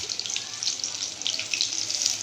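Soybean chunks dropped into hot oil in a wok, frying with a steady, close hiss and crackle that runs throughout without pause.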